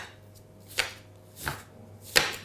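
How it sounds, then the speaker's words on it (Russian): Knife chopping onion on a board for homemade shashlik, three distinct crisp chops spaced about a second apart, close and clear against a quiet kitchen background. "нарезала его перьями"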